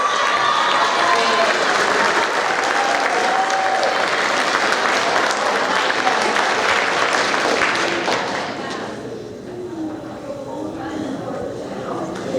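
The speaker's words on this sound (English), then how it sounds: "Let's give them another round of applause." An audience at an eighth-grade student awards ceremony gives a dense, loud round of clapping that carries on steadily with some cheering mixed in, then thins and tapers off toward the end as voices emerge.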